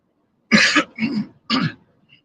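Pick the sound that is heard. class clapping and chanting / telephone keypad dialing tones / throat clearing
throat clearing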